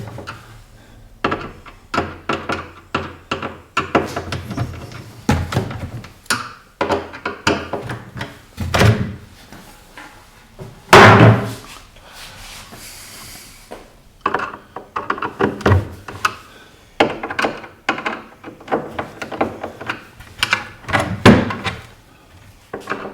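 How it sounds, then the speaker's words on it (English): Wooden kitchen cabinet doors on golden oak cabinets are worked loose and taken down, giving a busy stream of close knocks, thunks and clattering wood handling with one louder slam partway through, and no talking. "we've now taken our doors and false face off of our cabinet"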